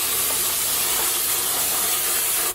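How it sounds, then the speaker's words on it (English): Brake cleaner sprays onto rear brake parts of a Toyota Tundra in a continuous, loud, close hissing burst that holds steady before cutting off at the end. "I will go ahead using the brake cleaner and clean those parts"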